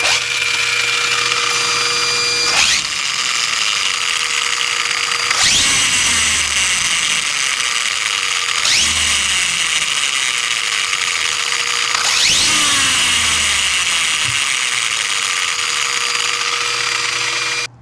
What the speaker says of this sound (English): Some weird sound is coming from the front end, I think from the diffs.